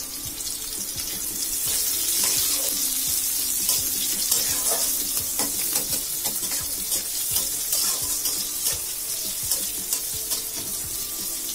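Chopped onions fry in hot oil in a pan, giving a loud, steady sizzle and crackle with scattered pops and stirring scrapes throughout.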